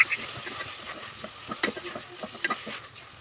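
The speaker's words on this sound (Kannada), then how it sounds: "ಇವಾಗ 4 ಟೊಮೊಟೊ ಹಾಕೊಳ್ತಾ ಇದ್ದೀನಿ. ಇದನ್ನು ಚೆನ್ನಾಗಿ ಫ್ರೈ ಮಾಡ್ಕೊಳ್ತೀನಿ." Four tomatoes fry with onions in a pan for spinach vegetable pulao, with a continuous soft sizzle and brisk spoon stirring and scraping close by.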